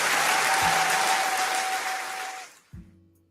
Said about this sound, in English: Is that a crowd applause right there?